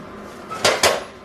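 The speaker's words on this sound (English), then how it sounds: "I have placed the pan on a tray upside down to catch any bits that will flake off" An old cast iron skillet, being stripped of its seasoning, is set down upside down on a tray, giving two quick, close metallic clanks in succession.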